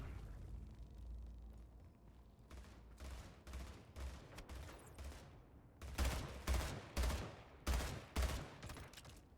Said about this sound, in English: We're all shooting at that thing.